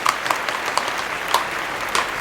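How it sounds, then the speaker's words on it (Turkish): Small gathering at a surprise birthday party for an older sister, clapping briefly in a loose, uneven patter with a few sharper claps standing out, fairly close and modest in volume. "Alkış."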